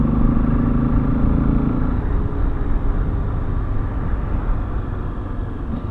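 A steady, loud engine drone with a low rumble from an XRE motorcycle runs throughout, idling or cruising close by.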